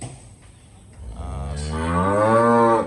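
An older dairy cow with one damaged teat gives a single long, swelling moo close by, rising from a low grunt to a full, loud call that holds before ending.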